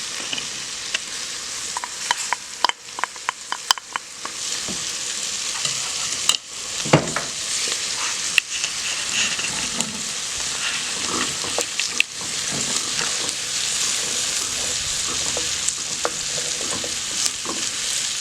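Garlic frying with onions in butter in a pot for venison soup sizzles steadily and up close, broken by a run of quick utensil clicks and scrapes early on and occasional stirring knocks later.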